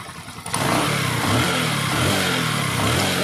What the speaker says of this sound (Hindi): बाइक मेरा प्रॉपर चल रहा है